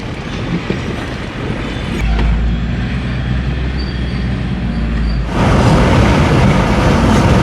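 A train passes a railway level crossing, heard from a nearby vehicle: a deep, steady rumble rises, then gives way to a louder, broad rushing roar as the cars go by close at hand.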